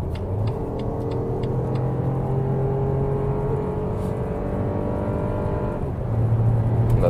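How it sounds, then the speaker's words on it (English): A 2021 BMW X1 25e plug-in hybrid accelerates from 100 km/h, heard from inside as a steady rising whir and engine drone over road rumble, with a brief gear-change dip near the end. "we can do one more acceleration, how that one behaves from 100 kilometers an hour"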